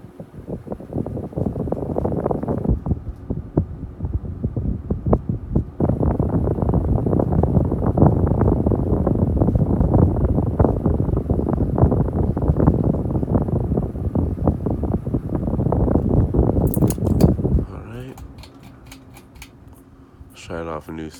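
A Hometrends Hugger 30-inch ceiling fan running on high speed in a basement gives a steady, loud whooshing rush of moving air with a broadband hiss and faint clicks, then drops off sharply near the end.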